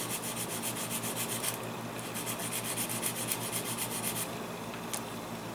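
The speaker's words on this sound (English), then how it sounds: "I'm going to sand down a little bit on the bottom" Sandpaper rubbing back and forth over the bottom end of a square wooden peg for a beginner hotel model build, a steady continuous scratchy scrubbing close by, with no talking.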